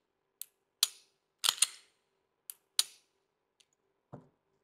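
Several sharp gunshots fired with an HSS trigger, crisp isolated cracks spaced irregularly over a few seconds with silence between, followed by a duller low thump at the end.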